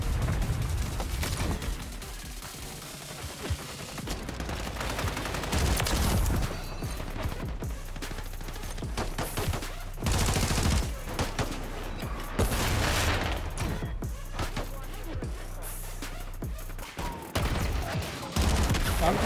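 Decoy grenades in MW3 give off bursts of fake gunfire: continuous rattling volleys and booms in a loud, dense game battle mix with no clear speech.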